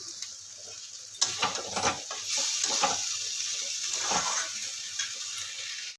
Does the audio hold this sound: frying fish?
yes